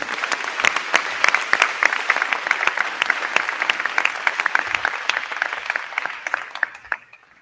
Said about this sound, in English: please stand so we can applaud for you